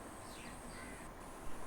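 Crows caw faintly in the morning as they gather at a spot where birds are being fed, their short calls distant and thin against a soft background hiss.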